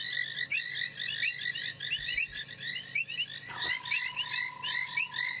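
Banded rubber frogs call at night after rain, a dense chorus of repeated chirping trills layered over each other, steady and moderately near, with a faint tonal hum joining partway through.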